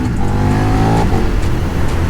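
Up close, a KTM 1390 Super Duke R motorcycle pulls hard, its big engine snarling loudly in a steady, rising roar with a brief pitch shift midway and no voices.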